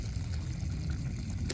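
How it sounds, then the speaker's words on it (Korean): Melting beeswax on a low boil gives a soft continuous bubbling and simmering murmur, steady and close, with no voices. "이렇게 보글보글 끓고 있죠. 이게 밀랍입니다."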